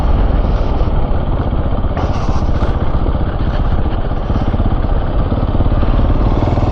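Husqvarna 701 motorcycle ridden along a rough farm road, its engine a loud, steady close drone with clattering and wind noise running throughout, no voices.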